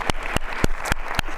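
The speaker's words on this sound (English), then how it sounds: "that deserves a hand clap" Audience members clap at a school district presentation, a few distinct, sharp hand claps spaced at an irregular rhythm over a hum of room noise.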